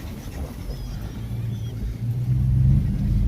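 A truck engine rumbles low and steady while driving across a property, growing somewhat louder toward the end, close by with no talk over it.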